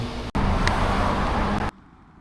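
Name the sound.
MV Agusta motorcycle with SC GP22 exhaust riding on road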